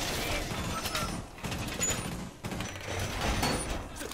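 Gunfire in a multiplayer shooter video game, with rapid bursts of shots in several clusters and sharp mechanical clacks, mixed with players talking.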